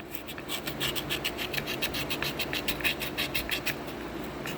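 500 grit sandpaper rubbed back and forth over a soft copper part of an M35A2 starter solenoid, giving a quiet, steady run of short rasping strokes close to the microphone.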